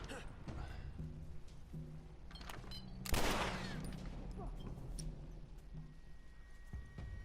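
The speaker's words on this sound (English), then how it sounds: "I'm gonna shoot him." A gunshot in The Last of Us, a single sharp loud blast midway through with a decaying tail, set against quieter game ambience and a voice speaking.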